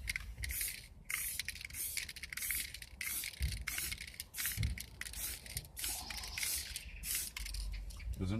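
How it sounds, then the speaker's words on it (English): Spray paint hisses from a can over a rough template on a shed in repeated close bursts, some short and some longer, with brief gaps between them. "Just spray over it."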